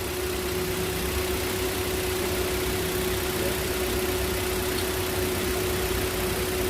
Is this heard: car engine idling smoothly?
yes